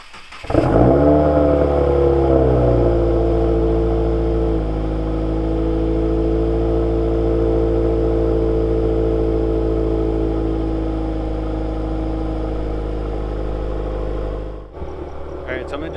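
A Subaru WRX engine cranks and fires on its first startup, then settles into a loud, steady idle with a strong low rumble that runs unbroken for about fourteen seconds before dipping abruptly near the end.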